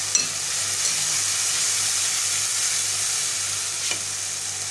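A sauce with vinegar and red chilli fries in a pan, giving a loud continuous hissing sizzle with a couple of brief stirring scrapes.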